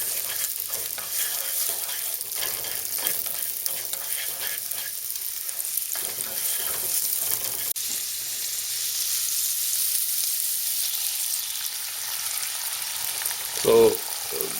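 Diced cold-smoked Hunan pork sautéing in a pan, giving a steady, loud, close sizzle and crackle throughout, with a brief utensil knock near the end.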